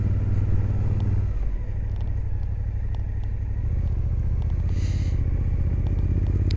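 Motorcycle engine climbing a big hill on a relaxed ride through Felixstowe, a steady close rumble with a slight shift in pitch as it labours upward, with no talking.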